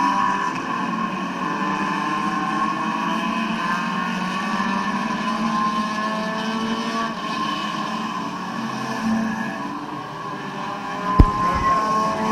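Dirt track race cars roaring around Midvale Speedway, a steady dense engine drone from the pack holding throughout, with a sharp brief crack near the end.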